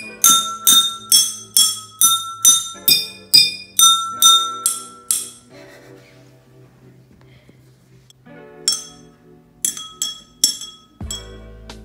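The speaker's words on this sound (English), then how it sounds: "You hit the outside of the glass" A drumstick strikes the outside of drinking glasses partly filled with water. Bright ringing clinks come in a steady run of about a dozen evenly spaced hits, then a brief lull, then a few scattered, irregular taps.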